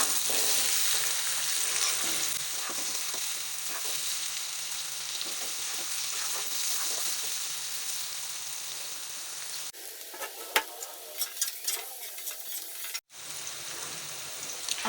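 Tinda (apple gourd) pieces frying in a pan until golden, a steady sizzle with occasional stirring scrapes, quieter toward the end with a brief clatter.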